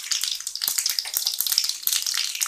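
Mustard seeds sizzling and crackling in hot oil in a pan for potato vada chaat, a steady bright frying hiss with scattered small pops, close and continuous.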